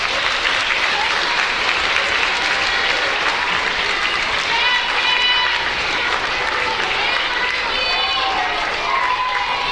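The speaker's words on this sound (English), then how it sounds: "Let's give them a round of applause." Audience applause for spelling bee spellers fills the room steadily and loudly, with a few scattered voices mixed in.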